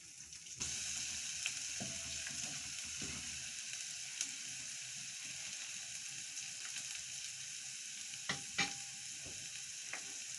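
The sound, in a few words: ginger garlic paste sizzling and stirred in hot oil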